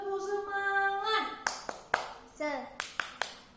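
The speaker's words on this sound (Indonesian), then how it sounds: "Tepuk semangat" A group of women at a training session clap out a rhythmic spirit clap, sharp separate handclaps in a patterned beat mixed with chanted voices.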